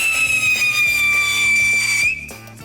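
A whistle firework screams as it goes off, one loud, steady piercing tone lasting about two seconds before cutting off, leaving a faint tail.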